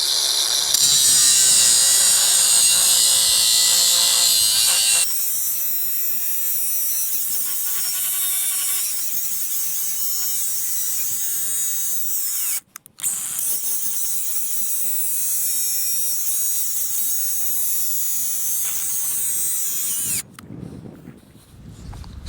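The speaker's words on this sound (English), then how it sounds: "Yeah, let's try the old cutoff wheel." An abrasive cutoff wheel grinds through the steel of a cattle guard with a loud, harsh, high-pitched screech that runs continuously, breaking off briefly twice before stopping near the end.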